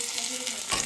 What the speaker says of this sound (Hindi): देसी घी मैंने डाल दिया, कसूरी मेथी डाल दिया, देगी मिर्च डाल दिया, तड़का लगा रहे हैं इसमें।